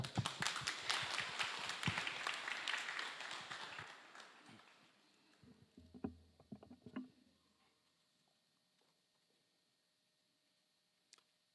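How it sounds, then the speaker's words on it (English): A room at an official compact agreement initialing ceremony breaks into dense, loud applause for about four seconds, then thins to scattered claps and taps before falling nearly quiet. "Let's give you a round of applause."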